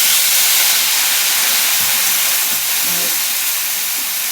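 Water poured into a hot pan of cumin powder for a vegetarian dish, setting off a loud, steady, close steam hiss and sizzle that fills the whole stretch and fades slightly toward the end.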